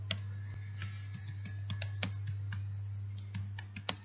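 Fast typing on a computer keyboard while a header is entered in Excel, with rapid irregular key clicks over a steady low electrical hum and no talk.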